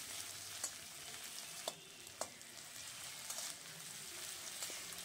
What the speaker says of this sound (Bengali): পেঁয়াজটাকে আমি ভাজা করে নেব।